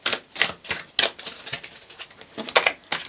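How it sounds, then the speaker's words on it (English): Cards are shuffled roughly by hand, a close run of sharp, irregular snapping and flicking clicks. "I'm just doing kind of an aggressive hand shuffle for you."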